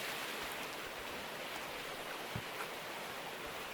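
Water tipped into a sluice box in the Gold Rush mining game, heard as a continuous, fairly soft hiss like rain or a small stream, with a few faint knocks underneath.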